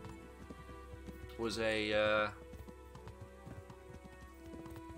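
Hoofbeats from a horse ridden in Kingdom Come: Deliverance, a steady clip-clop running the whole stretch at moderate level, with a louder tonal burst partway through and a voice talking over it.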